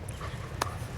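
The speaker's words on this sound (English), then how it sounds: "The dogs are playing." Dogs play near a narrowboat, with a brief high whimper or yip cutting through low, steady background rumble in a single short moment.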